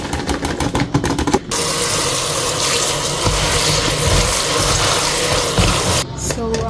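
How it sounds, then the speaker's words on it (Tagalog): Fresh spinach is rinsed under a running kitchen tap, giving a loud, steady rush of water that lasts several seconds, with brief clattering before the flow starts and again as it stops. "Hugasan lang natin tong spinach guys."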